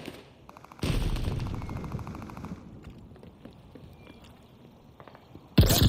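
Rapid gunfire bursts in Call of Duty: Vanguard sniping gameplay on PS5, a dense loud volley opening the scene, then scattered sharper cracks and game effects, ending with another sudden loud blast.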